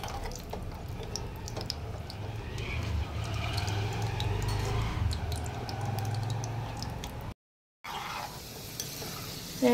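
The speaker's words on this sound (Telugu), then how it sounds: "ఇది గోల్డెన్ బ్రౌన్ కలర్ వచ్చేలాగా ఫ్రై చేసుకోవాలి" Frying in a pan for Indian gooseberry (amla) pickle, cooking until golden brown: a steady close sizzle with stirring scrapes, a low rumble beneath, a brief dropout near the end, then the sizzle resumes.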